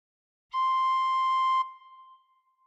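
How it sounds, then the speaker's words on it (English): A tin whistle sounds one sustained note with holes 1 to 6 covered, blown a bit harder, holding steady for about a second before stopping, with a faint ringing tail afterward. "Cover holes 1 to 6 with fingers 1 to 6 and blow a bit harder once."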